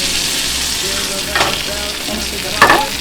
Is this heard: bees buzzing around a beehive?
no